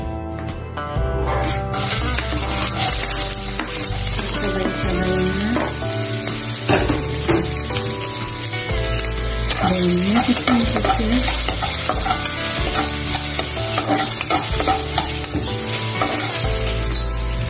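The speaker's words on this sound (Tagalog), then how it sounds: "lagyan ko na po ng olive oil yung kawali. And then nilagay na natin ng sibuyas at saka bawang." Onion and garlic sizzle steadily in hot olive oil in a pan while being stirred, with scraping spoon sounds over a constant loud frying hiss.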